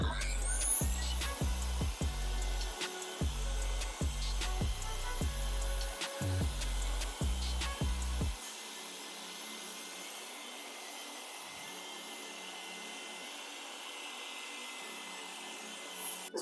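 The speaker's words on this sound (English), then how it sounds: "we run the dual action polisher and that helps to correct the paint" Dual action polisher correcting paint on a BMW X5, a loud steady whirring drone running throughout, with rhythmic low pulsing thumps for the first half before the tone smooths out into a continuous hum.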